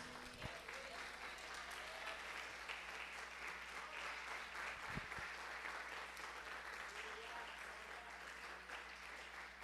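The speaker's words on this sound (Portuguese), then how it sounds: "Você pode se pôr de pé nesta noite e aplaudir o nome do Senhor Jesus?" A church congregation applauds during an evangelical service, keeping up a dense, continuous roar of clapping for the whole stretch without any talk.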